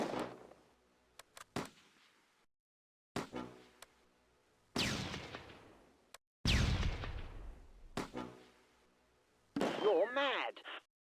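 Heavy gunfire and explosions in the World War II strategy game Close Combat A Bridge Too Far at Arnhem Bridge, sharp separate bursts and booming blasts with decaying tails between quiet gaps, the last one warbling like a shell.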